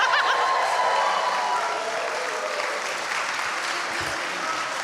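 Live audience at a horror game awards show cheering and applauding, a dense, steady wash of clapping that slowly eases off, with some scattered chuckles mixed in.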